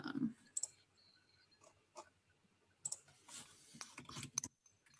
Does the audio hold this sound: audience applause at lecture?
no